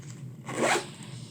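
A zipper is pulled shut on a pencil case stuffed to the top with pencils, giving one close, rasping zip of about half a second over a quiet room hum.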